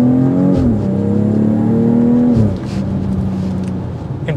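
A BMW accelerates hard from 0 to 60 with a loud, close engine roar that climbs in pitch. It drops sharply at a gear change and then keeps pulling at a lower, rougher tone.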